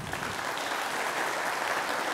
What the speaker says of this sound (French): Applaudissez le petit.